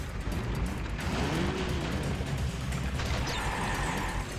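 A jeep engine revs and drones steadily close-up in the Crash Bandicoot: The Wrath of Cortex video game, with a rising whine and faint tire noise, running continuously with no talk.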